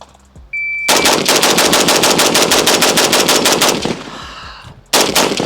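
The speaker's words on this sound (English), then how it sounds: "we'll do a 20-round mag dump just into the berm as quickly as we can" A DSA FAL rifle empties a 20-round magazine into a dirt berm in rapid fire. A long run of loud, close, evenly spaced shots stops, and a second short burst follows.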